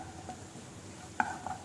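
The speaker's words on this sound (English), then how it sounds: "make sure you continuously stir with the helping of spatula" Onions stirred with a spatula in a pan while cooking for a dried fruit soup, a faint low sizzle with a couple of quick metallic scrapes and clinks near the end, quiet and close.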